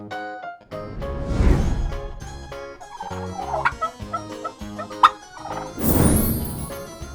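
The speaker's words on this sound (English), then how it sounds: "Turkey." A turkey gobbles in a quick, bubbling, rattling burst of several short notes at moderate loudness, with a single spoken word before and after.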